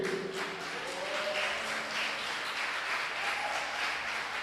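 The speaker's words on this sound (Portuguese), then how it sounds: "se for para aplaudir a Jesus, tem que ser todo mundo" A church congregation applauds together during a service, a steady moderately loud clapping that fills the room, with faint voices mixed in underneath.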